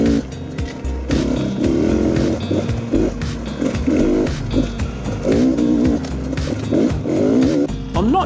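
An enduro motorcycle tears along tight forest single track with its engine loud and close throughout, revving and dropping in quick bursts as the rider works the throttle between trees.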